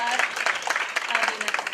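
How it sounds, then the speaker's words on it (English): Applause from an audience at a Circle of Ivy gathering, uneven bursts of clapping that rise and dip, with voices audible over and through it. "wasn't that deserves another round of applause"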